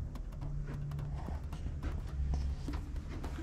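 Horse hooves clip-clop over a steady low background rumble, with repeated sharp knocking strikes spread through the clip and no clear speech.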